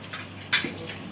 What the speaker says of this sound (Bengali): এই যে গাইস আমি মাখাচ্ছি